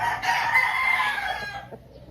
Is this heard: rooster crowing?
yes